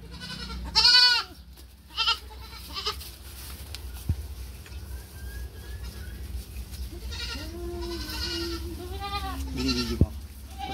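An orphaned goat kid bleats during an iron dextran injection, a few loud, wavering cries spaced apart, with quieter bleats later over faint background noise.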